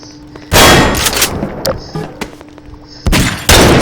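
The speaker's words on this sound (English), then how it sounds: "Did you just try to shoot at me?" Several loud gunshots crack out close by, a heavy opening blast followed by scattered smaller hits and thumps, then two more sharp blasts near the end, with no talking.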